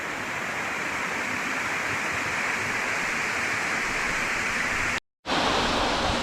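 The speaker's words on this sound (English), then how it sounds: "Basically it's also this nice waterfall, so you can take a dip into the ice cold water coming down the mountain." Ice-cold volcanic mountain water pours down a waterfall at a natural hot spring. It makes a steady, loud, broadband roar close by and cuts out briefly near the end.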